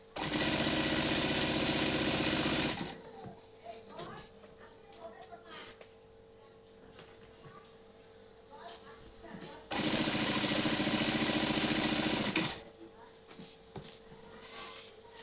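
Sewing machine stitching a cotton housecoat, running in two loud steady bursts of a few seconds each, separated by quieter stretches where a person talks over faint handling noises.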